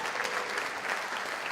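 A brief burst of steady audience applause, dense and fairly even, with no voices standing out.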